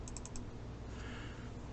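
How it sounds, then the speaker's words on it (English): Quick double click of a computer mouse during CAD modelling work, a pair of short, light clicks near the start over a steady low hum. "double click"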